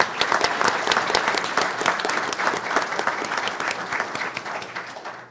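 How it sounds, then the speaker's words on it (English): An audience at a school board meeting applauds the math teams, brisk loud clapping from a roomful of people that holds steady and then starts to fade near the end, with no speech over it. "I would like to ask for you to cheer on our math teams once again for their wonderful accomplishments"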